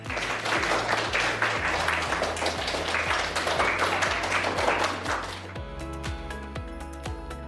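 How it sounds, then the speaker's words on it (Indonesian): Sustained applause from a classroom group after two discussion groups present in a reading-literacy lesson, dense steady clapping that thins toward the end while low background music plays underneath. "Marilah kita berikan tepuk tangan untuk kelompok 1 dan kelompok 2"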